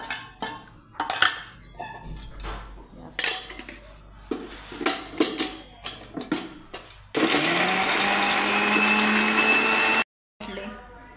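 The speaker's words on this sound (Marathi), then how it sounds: "हे मिक्सरला फिरवून घेऊ आपण," A mixer grinder grinds pumpkin into a fine paste for a pumpkin curry. Kitchen clatter of pots and utensils comes first, then a loud, steady whirring roar runs for about three seconds and cuts off abruptly.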